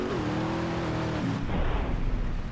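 A car in the video game GTA San Andreas drives with a steady engine drone that drops in pitch partway through, followed by rougher rumbling motor noise.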